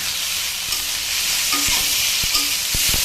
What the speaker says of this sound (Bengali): আর সবজিটা বেশ কিন্তু ভালো করে ভাজতে হবে।